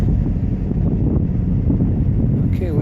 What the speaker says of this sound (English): It's pretty windy, so we'll see how the video turns out.